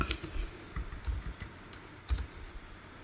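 Keystrokes on a computer keyboard while entering text in a Word document, a run of light, irregular clicks with short pauses, close and fairly quiet, with no talking.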